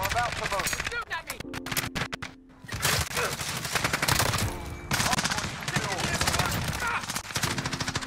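Rapid automatic fire from an M13 rifle in Call of Duty: Modern Warfare, loud and close, in sustained dense bursts with short pauses, mixed with game effects and a faint voice underneath.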